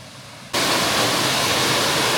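A majestic waterfall thunders close by, a dense, steady broadband roar that surges in after a quiet half-second and then holds loud and unbroken to the end.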